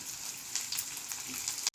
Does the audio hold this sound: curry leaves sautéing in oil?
yes